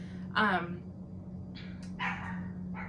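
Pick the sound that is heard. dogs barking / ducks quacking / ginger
dogs barking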